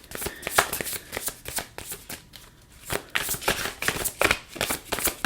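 Tarot cards being shuffled for a reading, close and quiet, with rapid irregular riffling and flicking bursts and brief pauses between them.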